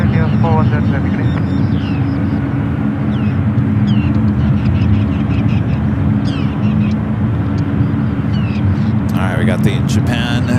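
A Japan Airlines Boeing 777 heads out at San Francisco airport, a loud steady jet roar filling the scene with heavy low rumble, while voices talk over it.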